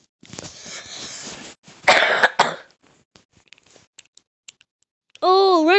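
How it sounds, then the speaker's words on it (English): A person coughs hard in a burst of several close, loud coughs, with throat sounds, keyboard clicking and mouse taps afterward, and a high, wavering sound at the end. "I just have coughs."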